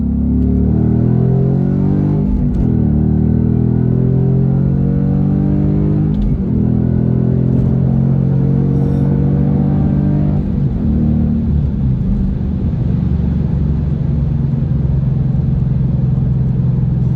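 A 2015 Ford Mustang GT accelerates hard, its engine rumbling loud and close as it winds up through several gear changes to a steady cruise.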